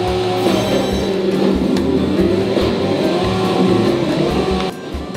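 Car engine from a Sega Model arcade racing game played on a retro console, a steady loud revving drone with shifting pitch throughout, dropping slightly at the very end.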